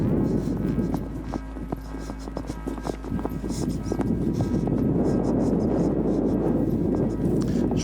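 A horse's hooves strike the ground in a steady rhythmic clip-clop during a ridden schooling session, continuous and moderately close, with wind-like noise in the background.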